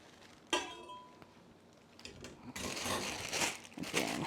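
A metal stand mixer whisk and dough hook clink against each other, with a bright ring at first, scattered taps and rustling packaging as they are handled up close.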